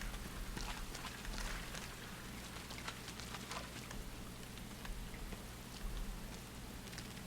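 Rain falling in a video game, a steady faint hiss of drops pattering on surfaces with occasional brief taps, continuous throughout with no talk.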